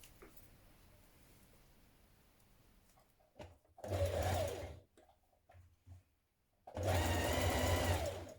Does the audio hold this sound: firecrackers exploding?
no